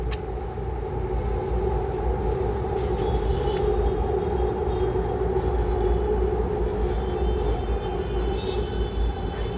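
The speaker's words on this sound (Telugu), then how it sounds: "ట్రైన్ వచ్చేసింది." A train rolls past a small home garden in a loud, steady roar with a low rumble and faint squeals, lasting for the whole stretch without a break or any voices.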